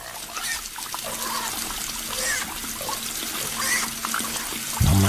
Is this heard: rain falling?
no